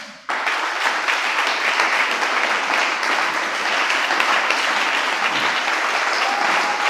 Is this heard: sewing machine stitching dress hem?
no